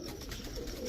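Maxi racer pigeons, a pair, giving a short burst of low cooing, close and brief with a faint background hiss.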